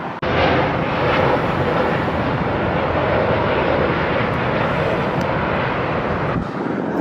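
A SkyWest Embraer E175 jet airliner arriving at LAX roars steadily overhead, a continuous broadband engine rush held at constant loudness before cutting off near the end.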